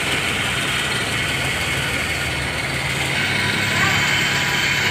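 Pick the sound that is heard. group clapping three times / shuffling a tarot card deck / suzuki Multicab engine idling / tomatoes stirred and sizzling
suzuki Multicab engine idling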